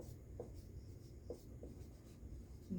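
A pen writing on paper, giving faint, soft scratching strokes in short separate bursts against a quiet background.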